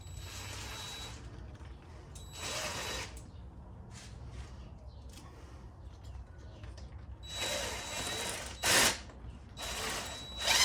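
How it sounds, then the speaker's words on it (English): Bolts being ratcheted back into the radiator of a Suzuki LTZ 400 ATV, heard as a few close bursts of quick metallic ratchet clicks separated by quieter pauses of shop background. "just getting all these bolts back into the radiator here."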